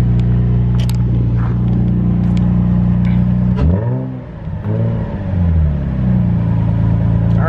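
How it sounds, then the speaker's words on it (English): A Mercedes G-Class engine idles with a deep steady rumble, then revs up and back down twice in smooth rising and falling sweeps, loud and close. "let's rev it and make sure that nothing weird is going on."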